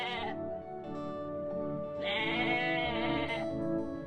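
Sheep and goats bleating in a rural Spanish flock, a long sustained bleat followed by a louder second one, close and clear with no talk.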